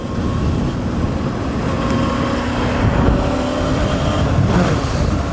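A motorcycle engine drones loud and close during a wheelie attempt, a steady rumble with slight swells in revs and heavy wind buffeting throughout.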